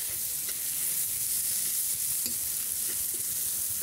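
Onion cooks slowly in a little oil over low heat, making a faint, even sizzle with a few light taps from a stirring spoon.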